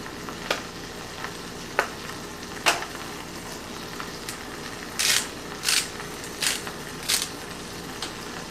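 Summer squash and onion cooking in a hot pan give a soft, steady sizzle, broken by a few sharp clicks and then several louder bursts of spitting fat toward the end.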